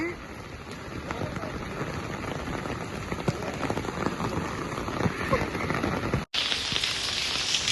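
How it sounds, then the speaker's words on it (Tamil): Heavy rain pours steadily in a darkening downpour, a dense, loud hiss of drops on surfaces that continues without a break and is briefly cut off near the end. "செம்ம மழை இங்க அப்படியே இருட்டிட்டு இருக்கு"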